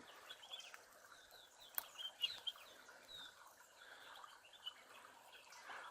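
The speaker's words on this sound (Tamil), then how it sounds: "சலசலத்து ஓடுது பாருங்க" A small mountain stream in the Nilgiri Hills near Hiriyaseegai village flows with a soft, continuous hiss and trickle, faint and steady, with occasional bird chirps over it and no talk.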